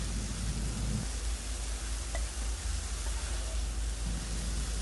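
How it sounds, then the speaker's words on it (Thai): Garlic chives stir-frying in a pan on a gas stove, a steady dense sizzle with a low burner rumble underneath, continuous and even throughout, without speech. "จากนั้นเราก็ผัดไปเรื่อยๆนะคะ"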